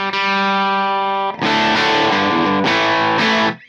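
Distorted electric guitar through a Kemper amp profiler dialed toward a thin, fizzy old-school heavy metal tone, a held chord ringing first, then loud, aggressive strummed chords and riffing with no one talking.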